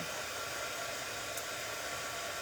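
A hair dryer blows steadily and fairly loud throughout, drying handmade farmhouse-style spring kitchen mixer decor pieces, with no talking over the even rushing hiss.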